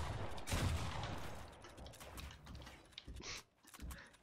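Rapid gunfire rattles through a Fortnite buildfight, a dense burst of shots near the start followed by scattered clicks and mechanical clatter, fairly close and with no talk over it.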